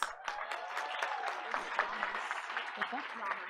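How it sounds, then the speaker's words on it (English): Attendees at a board of education meeting applaud a high school music teacher with moderate, fairly quiet clapping from a modest crowd, and a few voices are audible beneath it. "let's give him a big round of applause"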